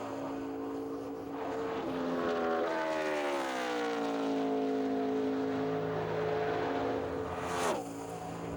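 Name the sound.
NASCAR stock car engines screaming at Indianapolis during qualifying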